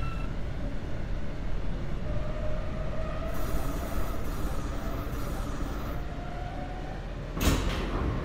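An R160A subway train on an F Express run in a rail simulator game rumbles steadily along the track with a constant low drone and faint hiss, plus a brief sharp burst near the end.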